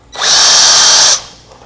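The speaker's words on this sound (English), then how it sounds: "take care not to drill all the way through this router plate with your countersinking bit" A power drill with a countersinking bit bores briefly into a router plate, one high whine of about a second that stops sharply.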